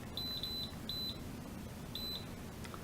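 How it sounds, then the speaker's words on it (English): ActiveOn CX action camera beeper sounding a series of short high electronic beeps in two quick bursts, close and thin, then a quiet pause with no talk. "the beeper that you can hear now"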